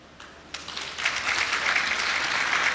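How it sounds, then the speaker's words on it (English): An audience at a community imbizo meeting claps to welcome guests, starting with a few scattered claps that swell into steady, moderately loud applause. "I would like you to clap your hands to welcome those that are coming from outside OR Tambo."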